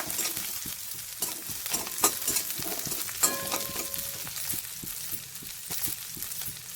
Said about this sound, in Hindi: अब हम इसमें प्याज डालेंगे, मिर्ची, हरी मिर्ची भी हम डालेंगे इसमें।